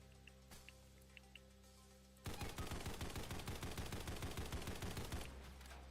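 Rapid automatic gunfire from a heavy gun in a video game, a sustained burst of sharp repeated shots lasting a few seconds, loud and close, preceded by a few quieter clicks and soft game sounds.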